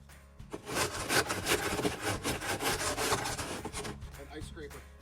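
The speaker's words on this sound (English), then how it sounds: "An ice scraper." Steady scraping and rubbing of an ice scraper working across snow and ice on a driveway during a snowstorm, continuous and fairly loud over about five seconds with no talk.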